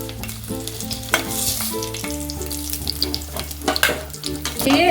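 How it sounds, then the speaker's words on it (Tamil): Dried red chillies, cut in half, frying and being stirred in sesame oil, with a loud, close, continuous sizzle broken by scraping stir strokes. "நல்லெண்ணெயிலே இது நல்லா வதங்குங்க இந்த மிளகா"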